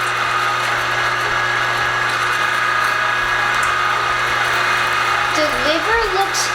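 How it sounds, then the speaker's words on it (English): A meat grinder works through pork and beef liver with a steady, loud motor drone that never breaks, and there is a faint wobbling squeal near the end. "looks even grosser coming out of the meat grinder than it does going in."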